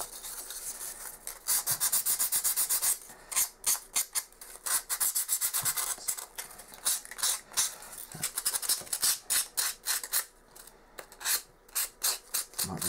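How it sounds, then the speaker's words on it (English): Sandpaper rubs back and forth along the edges of dungeon game tiles, a close, raspy scratching in rapid rhythmic strokes, some long continuous passes and others short and choppy, with brief gaps between bursts. "just grab a piece of sandpaper and just work, smooth off some of these edges a little bit"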